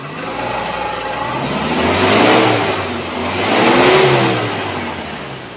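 A 2017 Mitsubishi T120ss pickup engine revving up twice, rising and falling in two smooth swells, loud and close with no talking.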